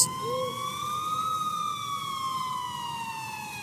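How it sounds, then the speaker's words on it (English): Police siren wailing in the distance, a single steady rising-and-falling tone holding for several seconds with no talk over it. "I finally heard sirens in the distance"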